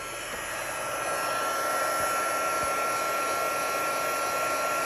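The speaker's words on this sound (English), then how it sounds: "So I've got my heat tool." A heat gun blows hot air in a steady, loud, continuous roar that fills the whole stretch with a constant hiss and whine.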